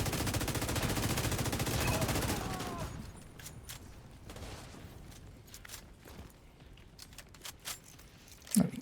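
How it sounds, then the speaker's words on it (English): Video game combat at a final control point, opening with a loud sustained burst of heavy gunfire that fades into scattered shots and sharp impacts, ending with a closer, punchy blast. "There's a grenade going."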